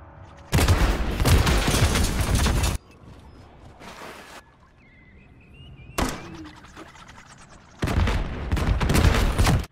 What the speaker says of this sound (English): Start shooting into B.